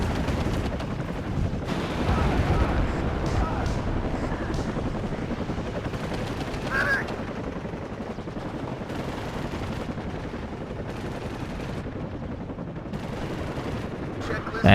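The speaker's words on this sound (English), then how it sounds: "with the Abrams firing, the machine gun firing" An Abrams tank and machine gun fire in the WARNO battlefield, a dense, ongoing clatter of gunfire and heavy blasts that keeps a steady din throughout, with a voice talking over it.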